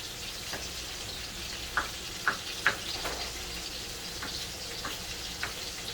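Onions, garlic powder and lamb fry in a pan with a continuous gentle sizzle. A few distinct clicks of a utensil against the pan sound in the middle.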